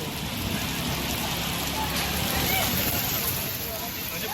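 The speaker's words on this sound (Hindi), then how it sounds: "पूरे दिल्ली एनसीआर में तेज़ आंधी के साथ बारिश हो रही है।" Heavy rain falling during a strong storm with gusty wind in Delhi NCR, a steady dense hiss and patter of rain on surfaces holding throughout at an even, moderately loud level, with faint voices murmuring in the background.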